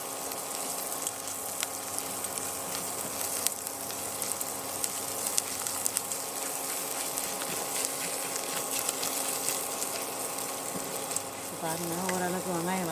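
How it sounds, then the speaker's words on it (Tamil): Onions sauté in oil for an adai dosa batter, a continuous close sizzle and crackle of frying with occasional stirring scrapes. The sizzle holds steady throughout, with a brief shift near the end. "பாருங்கள், ஓரளவுக்கு வெங்காயம் வதங்கிடுச்சு."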